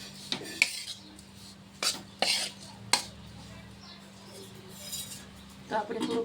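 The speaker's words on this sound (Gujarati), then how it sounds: "આપણે લોટ ગોલ્ડન બ્રાઉન થઈ જાય ત્યાં સુધી શેકવાનો છે" A metal spoon clinks and scrapes against a pan as flour is stirred and roasted in desi ghee for mohanthal, several sharp clatters spaced out over a low steady background, with no talking.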